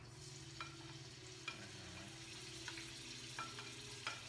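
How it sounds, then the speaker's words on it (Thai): Garlic sizzles in hot, bubbling oil in a home kitchen, a steady crackling fry with a low hum beneath and soft stirring clicks every second or so. "น้ำมันก็เริ่มเดือดนะคะ อย่าเดือดตามน้ำมันแล้วกันนะคะ หากระเทียมก่อนค่ะ"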